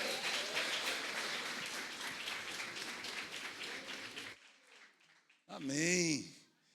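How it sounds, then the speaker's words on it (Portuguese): Church congregation applauding in praise, a dense wash of clapping that stops abruptly about two-thirds through, followed by a brief loud sung or shouted voice. "a gente bater palma desse jeito"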